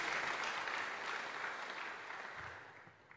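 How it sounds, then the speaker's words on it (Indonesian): A crowd applauds at a church worship service with steady, dense clapping that slowly fades toward the end. "Boleh kita beri tepuk tangan bagi kemuliaan Tuhan Yesus Kristus."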